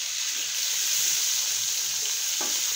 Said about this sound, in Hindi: अब टमाटर हम लोग इसके अंदर डालते हैं और